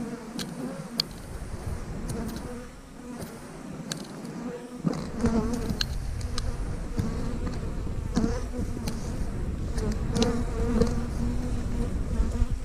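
Honey bees buzz loudly and continuously around an open beehive on a farm, a dense close swarm drone with individual insects flying past the listener.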